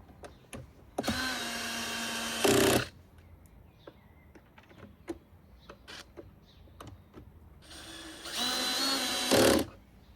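A power drill drives screws while a pressure washer pump is serviced, whirring in two short, steady bursts that rise at the end, with small clicks and handling knocks between them.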